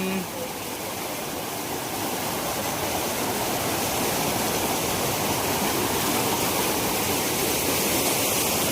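Loud, continuous roar of floodwater rushing through bridge culverts after heavy rain in Koregaon taluka, dense and unbroken throughout, like a torrent pouring through a narrow channel close by.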